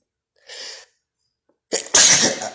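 One person sneezes close up: a quick inhaled breath, a pause, then a loud explosive burst with no speech around it.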